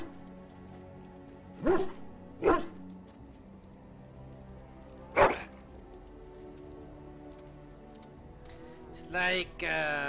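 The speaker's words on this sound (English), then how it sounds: "Fucking dog." A dog in the fantasy video game Dragon Age Origins barks a few times, two quick barks, then a single bark, then two more, over a low game background hum.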